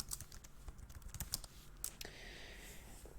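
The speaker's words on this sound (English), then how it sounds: "And I'll type my password in here." A password is typed on a computer keyboard in rapid, uneven clicks, close and fairly quiet, tapering off into low background hiss.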